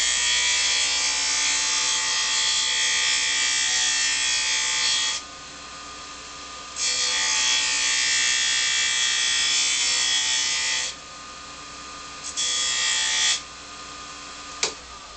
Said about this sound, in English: Now I'm going to step over to the sanding plate and knock these edges off.